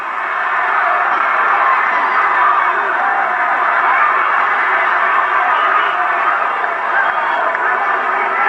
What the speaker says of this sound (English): Crowd loving it.